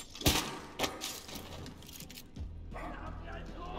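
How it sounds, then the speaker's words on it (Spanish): Dog barks in the video game Wolfenstein II: The New Colossus, a couple of sharp yelps near the start over game sound, followed by a steady low hum. "Perro."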